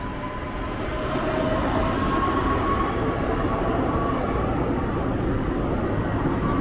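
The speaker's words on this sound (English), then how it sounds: "Replay the video for you so you can see the train going across one more time." Goods train crossing a railway viaduct over the River Stour, a continuous rumbling roar of wheels and wagons that swells slightly and then holds steady, loud and close.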